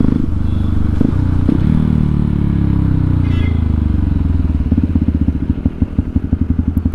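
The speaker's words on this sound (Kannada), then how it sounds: "ಎರಡು ಸೇಮ್ ಗಾಡಿ ಸೇಮ್ ಎಕ್ಸಾಸ್ಟ್." Motorcycle fitted with a full-system aftermarket exhaust, idling loud and close with a deep throaty burble, a couple of sharp blips, then a steady rapid popping putter toward the end.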